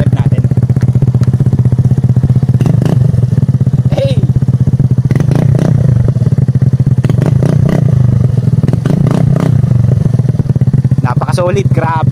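Suzuki Burgman scooter fitted with a Yoshimura Alpha muffler with the silencer removed, its engine running loud and close with repeated revs and rattly clatter throughout, a voice briefly heard over it.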